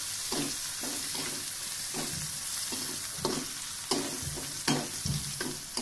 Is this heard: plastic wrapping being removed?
no